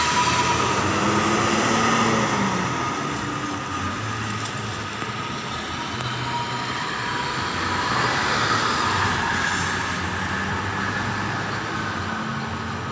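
A train passes along a railway line in Indonesia, a continuous broad rumble and rush that swells and fades slightly over more than ten seconds, with no voices.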